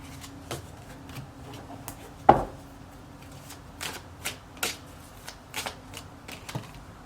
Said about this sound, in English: I'm going to put these cards back and I'm going to shuffle a little more on this person.